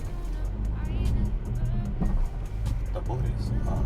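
Volkswagen Tiguan R-Line climbing an off-road hill under constant acceleration, a steady, loud engine drone with rumbling tyre and body noise throughout, and voices talking over it.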